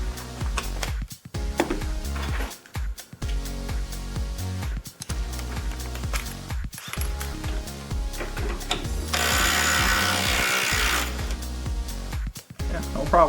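A Ryobi impact wrench runs in repeated hammering bursts, separated by short pauses, with a longer sustained rattling burst near the end. Nearby voices are audible between the bursts.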